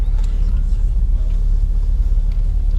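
BMW 530d 5 Series car cruising on the road, a steady low rumble of engine and tyre noise fills the cabin throughout, constant and moderately loud with no voices.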